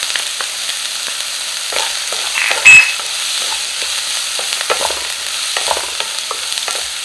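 Five cloves of finely chopped garlic sizzling in hot oil in a pan, with a steady frying hiss, soft stirring scrapes and one louder sputter partway through, close and alone.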